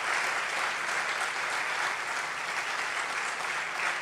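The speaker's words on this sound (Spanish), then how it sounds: "Démosle un aplauso grande a Él." A church congregation applauds steadily and warmly during a sermon, sustained clapping from many hands with no voices over it.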